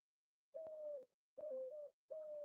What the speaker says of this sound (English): the bird made noises